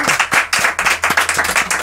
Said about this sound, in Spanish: Creo que le tenemos que dar un aplauso, ¿no, chicos?